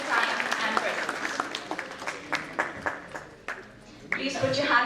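Audience applause for Dr. Inayatullah at an academic event, a steady wash of clapping lasting throughout with a voice speaking over it and a fresh swell near the end.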